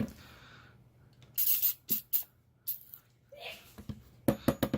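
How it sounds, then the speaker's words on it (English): Several short hissing bursts of CLP gun cleaning lubricant sprayed into an AR-15 chamber, close and loud, separated by brief pauses, with some faint handling noise between them. "I'm going to spray it in the chamber"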